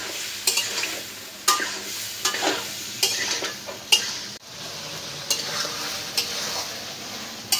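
Potato and pointed gourd fry with spices in a pan under a steady sizzle, punctuated by regular sharp scrapes and knocks of a spoon stirring, close and fairly loud.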